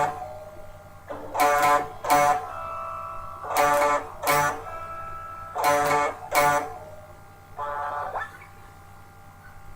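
An electric guitar strums a riff: paired chord hits, a pause, then more pairs, ending on a softer single strum. It plays alone, close and clear.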